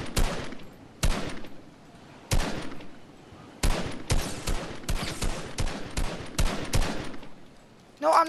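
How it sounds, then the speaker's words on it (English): Gunfire in the Fortnite video game crackles in several separate sharp bursts with short gaps between them, some rapid and clustered, loud and close, with no one speaking over it. "somebody's shooting me now."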